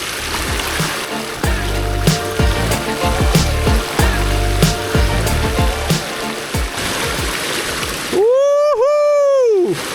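River water rushes and splashes steadily through an opening in a cleared beaver dam, close and loud with choppy bursts, followed near the end by a distinct rising and falling whistle-like tone.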